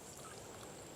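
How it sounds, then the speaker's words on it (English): Water poured into two painting containers, a steady broadband splashing rush filling the whole second without pause, close and fairly loud. "But the water goes in my 2 containers."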